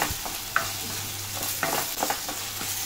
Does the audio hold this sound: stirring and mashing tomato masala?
yes